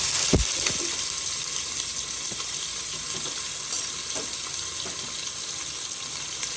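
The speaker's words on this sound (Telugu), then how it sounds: "ఆయిల్ హీట్ అయింది. జీలకర్ర ఆవాలు వేసిన 2-3 పచ్చిమిర్చి" Onions, green chillies, cumin and mustard seeds crackle in hot oil, a steady close sizzle with a sharp thud as they drop in and scattered small pops and stirring clicks afterward, without any talking.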